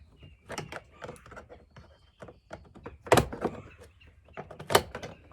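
Plastic door panel clips being unsnapped at the door latch of a Nissan Frontier, several sharp snaps and thunks at irregular intervals, with louder pops near the middle and end over light handling noise.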